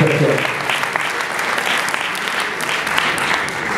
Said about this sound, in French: Donc on pourrait peut-être les applaudir